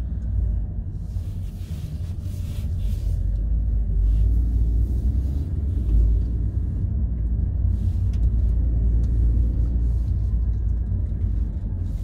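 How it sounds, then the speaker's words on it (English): Honda Jade 1.5 self-charging hybrid petrol engine starting up while the car accelerates, a low steady rumble and drone of engine and road noise that holds on throughout, with no talking. "The engine comes on."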